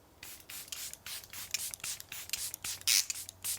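A bottle of Charlotte Tilbury Airbrush Flawless Setting Spray shaken and misted: a string of quick, rhythmic rattling and hissing bursts, close up and moderately loud, with no one speaking.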